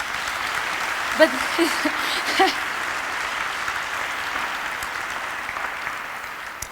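Applause from an audience at a Latin female dance lecture, a steady wash of clapping throughout, with a brief spoken word and a couple of louder voices breaking through near the start.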